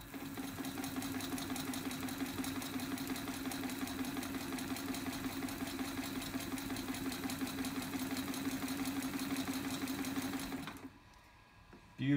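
An antique 1920 Singer Model 127 sewing machine, overhauled and refinished, stitches in a fast, steady mechanical rattle that runs evenly for several seconds before stopping.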